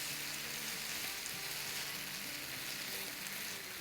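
Chicken frying in a hot pan for chicken fried rice, giving a dense, steady sizzle and crackle with some low stirring movement, close and continuous with no talking.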